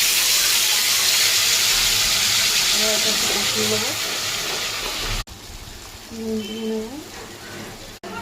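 A spice paste of cashews, melon seeds, cumin powder and green chili paste sizzles steadily in a hot pan, loud and close, the hiss thinning after a pause as a voice talks over it.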